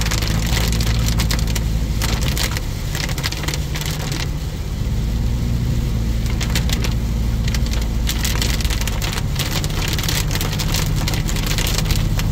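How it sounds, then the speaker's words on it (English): Heavy Hurricane Idalia rain pelts a moving car in South Carolina's Low Country, a dense constant drumming on the roof and glass over a low road rumble, with the windshield wipers running on full. "Unable to keep up with the rain."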